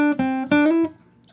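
A short guitar riff of a few plucked notes, one sliding upward in pitch, played slowly and clearly with no talking.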